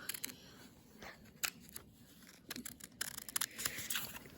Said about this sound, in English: what you want to do with the paper is you want to cut just a little bit